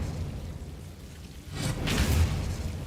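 A spell-cast effect from the Hogwarts Legacy video game: a quiet stretch, then a rising whooshing burst with a low rumble, swelling loud and airy before holding steady.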